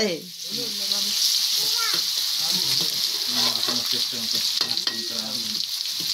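Spices fry in hot oil in a pan for a rooster curry, a steady loud sizzle with stirring scrapes throughout while voices talk over it.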